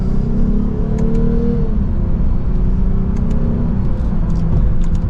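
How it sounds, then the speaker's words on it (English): A 2023 Lexus RC350 F Sport accelerates from second gear, its engine drone loud and steady with a rising tone, heard from the cabin with no talking. "Nice mild acceleration for this new RC350"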